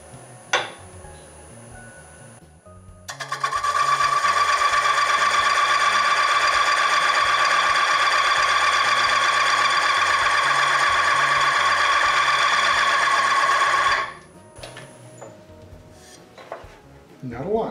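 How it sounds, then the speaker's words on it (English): A wood lathe turns a cherry bowl at about 500 RPM while a texturing tool presses into it, giving a loud, steady whirring, buzzing drone that starts abruptly, holds for around eleven seconds, then stops, with quieter shop noise before and after. "Okay, I've got the speed set at about 500 RPM. Let's see what the texturing tool will do."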